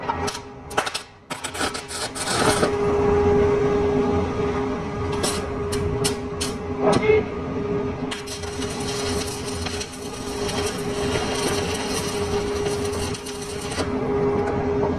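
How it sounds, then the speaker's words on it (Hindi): Arc welding while striking a tack weld, with a weak earth connection: a loud, close, continuous crackling buzz with several short sputtering starts before the arc holds, then a break and another long stretch of steady arc noise. "देखिए हमने यहाँ पर एक टांका और लगाया।"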